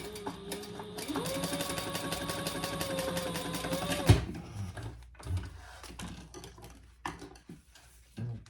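Sewing machine stitching beneath the third card slot of a Purse Pal, a steady fast run of needle strokes for about three seconds that then stops, followed by quiet handling noises and fabric rustling.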